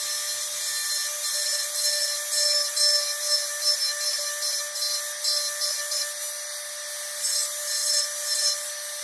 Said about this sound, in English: we're just rounding it so it looks like it rounds inward.